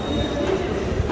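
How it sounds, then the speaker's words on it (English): A local train pulls into Malad railway station in Mumbai, with a brief low rumble of wheels and a faint metallic squeal on the rails. "This is Churchill train coming at 8:11."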